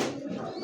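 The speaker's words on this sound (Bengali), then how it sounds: "দর্শক এই মুহূর্তে দেখতে পাচ্ছেন স্ক্রিনে যে ডাকতেছে কবুতরটা" A single short, soft coo from a white racer pigeon, heard close and alone.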